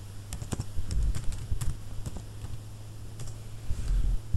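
A Django command typed on a computer keyboard: a quick, uneven run of light key clicks close by, with short pauses between bursts and no talking.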